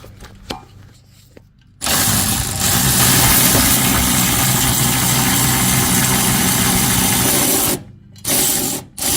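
An electric power tool spins 21 mm bumper bolts off a Ram 1500 rear bumper step, running loud and steady for about six seconds after a quieter start, then stopping briefly and giving a short final burst.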